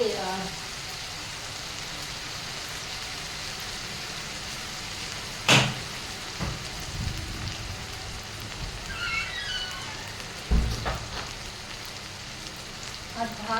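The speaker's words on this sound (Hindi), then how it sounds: "आज बाहर बहुत तेज आंधी आ रही है।" A strong windstorm rushes outside as a constant, faint broadband roar, broken twice by sharp, sudden bangs of doors slamming, with a few softer knocks between.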